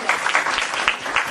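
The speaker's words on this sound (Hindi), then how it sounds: "भाई ममता के लिए एक बार तालियां हो।" Audience applause in a room, a short steady burst of many hands clapping, loud and close, with no talk over it.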